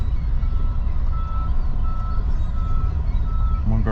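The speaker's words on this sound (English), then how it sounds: "Look at all these trucks." Heavy trucks rumble at a landfill with a steady low engine drone, while a thin reversing beep repeats faintly in the background throughout.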